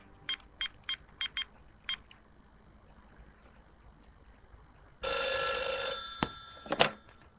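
A telephone rings in a series of short electronic trills, then a loud sustained tone and a couple of sharp clicks follow.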